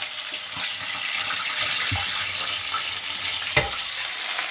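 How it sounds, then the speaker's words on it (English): Salmon frying in a pan with a little too much oil, a steady sizzle and crackle while excess oil is poured off, with small knocks and one sharp clink of the pan near the end. "I'm gonna pour off all this oil because it's too much, a little bit too much oil."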